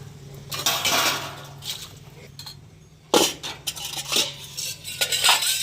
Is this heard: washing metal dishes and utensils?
yes